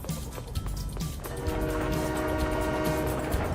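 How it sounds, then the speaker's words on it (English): A train rolls through a video game level in Disney's Meet the Robinsons, a steady rumble with horn-like tones holding loud and close for several seconds. "Apparently we just have a train that goes through sometimes."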